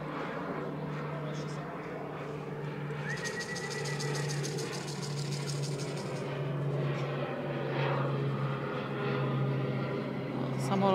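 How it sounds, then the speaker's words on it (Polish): A fixed-wing airplane drones steadily overhead during a racing pigeon flight training session, a continuous engine hum with a sustained low tone lasting throughout, accompanied by faint background noise. "Samolot leci"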